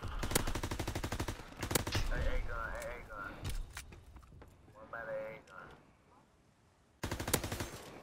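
Rapid gunfire bursts from the World War II shooter game Call of Duty: WWII, loud clustered volleys at the start and again at the end, with excited player voices talking over the middle stretch.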